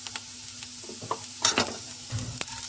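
Turmeric, chilli powder and garam masala being stirred in a hot pan for carrot rice, giving a steady close sizzle with a few scraping strokes of the spoon, no voices.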